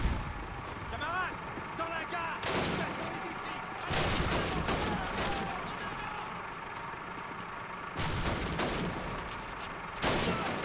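Cannon blasts from tanks in the Call of Duty World War II battle at Ponyri, heavy booming bursts repeating every few seconds amid continuous gunfire and battle noise, with someone talking over it.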